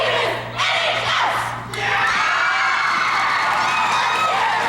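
A large crowd at a 1997 high school cheer competition final yells and cheers loudly and continuously, a dense roar of shouting voices throughout.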